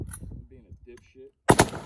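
A single .450 Bushmaster rifle gunshot cracks out loud and sharp after a stretch of quiet speech, with a brief echoing tail fading away outdoors in Texas.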